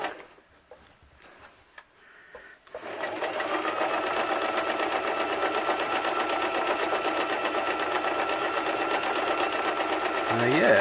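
A sewing machine runs steadily for about eight seconds, stitching down the seam of a basic Viking-style hood after a quiet start with faint handling noises.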